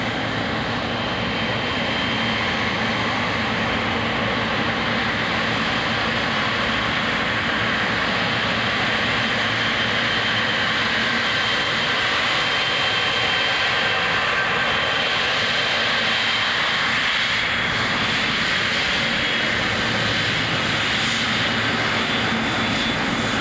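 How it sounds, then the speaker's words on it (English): A jet airliner at Chicago O'Hare International Airport, a few hundred yards away, gives off a loud, continuous engine roar with a broad rushing whine that shifts slightly as it passes, with no talking. "Airplane is literally just a few hundred yards from me."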